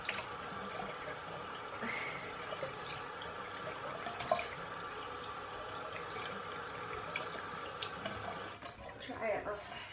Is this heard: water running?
yes